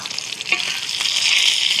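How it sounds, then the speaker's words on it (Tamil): Crab frying in a cooking pan, a steady hissing sizzle of hot oil with faint stirring scrapes, close and continuous. "நண்டு பொரிச்சு எவ்வளோ டேஸ்ட்டாக இருக்கும்."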